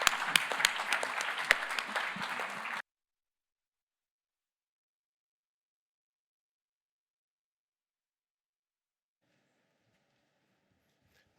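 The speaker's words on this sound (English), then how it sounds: "You may clap now." Audience applause at a lecture during a political forum, dense clapping for under three seconds, then it cuts to near silence.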